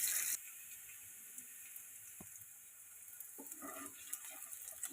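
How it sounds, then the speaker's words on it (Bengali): Chopped onion frying in a pan until light brown, a soft steady sizzle with a few brief clinks and scrapes from stirring partway through. "পেঁয়াজটা হালকা বাদামি ভাবে ভেজে নেব।"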